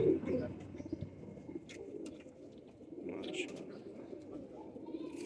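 A green banded pigeon coos in low, soft, repeated calls, fairly close, over a murmur of background noise.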